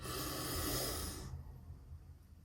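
One long, deep breath drawn in close to the microphone, a breathy rush that lasts over a second and then stops, leaving quiet.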